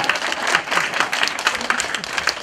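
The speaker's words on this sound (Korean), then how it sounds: "박수 쳐봐." Applause from the audience at a patriotic lecture: steady, moderately loud clapping from many hands, evenly dense throughout the short stretch with no voices standing out.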